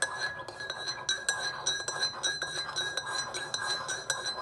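A spoon stirs mocha coffee mix in a glass, giving a quick run of bright, repeated clinks and taps against the glass, close and clear, with no one talking.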